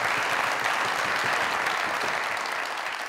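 Studio audience applause at a Pakistani comedy show, a dense, steady wash of many hands clapping that holds evenly loud for the whole stretch, with no talk over it.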